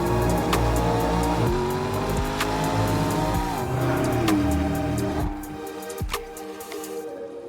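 McLaren Speedtail hypercar driving along a road, a loud, steady engine drone with rising and falling tones, fading somewhat toward the end, with no voices.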